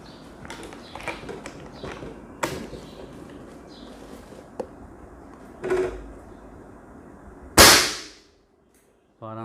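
Hatsan Hercules Bully air rifle fires a single sharp, loud crack near the end, after a stretch of scattered clicks and light handling taps, followed by brief near-silence.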